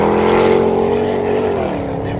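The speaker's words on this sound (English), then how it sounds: "this is what it's like to drive a car without rear tires" A conventional sports car driving on bare wheels after its rear tires have burned away, churning through its own smoke; a loud, steady engine drone with a sustained tonal whine, continuous and close throughout.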